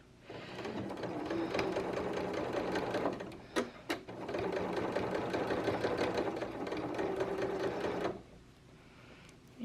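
A sewing machine stitching close to the edge of a sleeve hem, running loud and steady in two long bursts with a brief stop and a few clicks between them, no voices.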